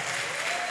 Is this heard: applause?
yes